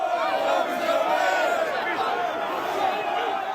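An angry crowd of protesters in Whitehall, London, shouts and roars in a dense, continuous mass of raised voices, loud and close throughout.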